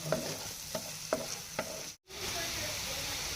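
An onion and red chilli mixture is stirred as it fries in a pan, with several distinct scraping stirs over a steady sizzle, a brief dropout, then continuous frying hiss.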